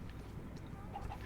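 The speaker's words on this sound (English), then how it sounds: "Oh, I hear a chicken." A chicken clucks faintly in the Minecraft video game, short soft calls set low against a steady background hum with no talking.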